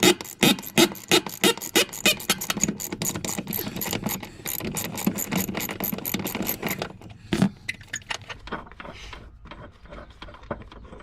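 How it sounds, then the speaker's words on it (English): A hand ratchet clicks rapidly while undoing bolts on a semi truck air ride seat, dense bursts of sharp ratcheting that pause and restart, close and fairly loud, tapering into a few sparser clicks and light metallic handling near the end. "we'll undo these 2 bolts in the front"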